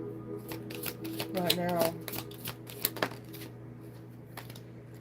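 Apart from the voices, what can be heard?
shuffling a deck of Archangel Oracle cards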